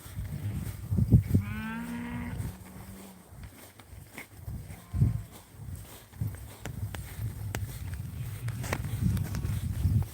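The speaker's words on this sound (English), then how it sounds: "These cattle are all gonna walk away from me here for a while" Cattle in a farm field being checked for pneumonia by a rider, with one loud, close moo rising and falling, followed by a few quieter lowing calls, footsteps and shuffling movement over steady outdoor ambience.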